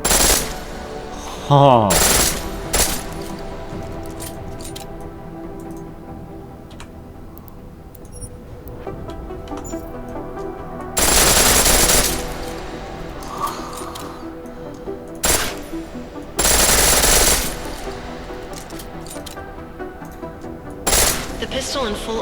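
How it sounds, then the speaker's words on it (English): A pistol fires in full auto in Deus Ex Mankind Divided: several loud rapid-fire bursts separated by quieter stretches of game ambience, with a brief spoken exclamation. "The pistol in full auto will take down targets fast, but it'll burn through your ammo"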